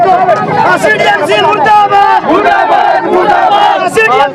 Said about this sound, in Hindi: पुलिस और हड़ताली कर्मी आमने सामने हैं, नारेबाजी हो रही है